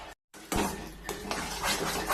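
Spoon stirring thick homemade chyawanprash with spices in a pot, a close scraping and clinking against the metal that repeats irregularly after a brief silent gap.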